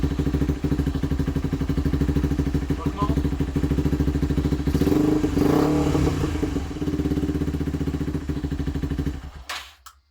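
Kymco scooter engine idling steadily after its emissions system was removed, a close, even putter with a regular beat that runs throughout, a voice talking over it briefly, then cutting out at the end.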